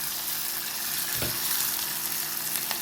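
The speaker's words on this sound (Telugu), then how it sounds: "ఇప్పుడు తరిగిన ఉల్లిపాయలు వేసుకోవాలి. చూడండి, ఉల్లిపాయలు కొంచెం వేగాలండి." Chopped onions fry in a pan for a Telugu sorakai curry, a steady close-up sizzle with a soft stir or scrape partway through.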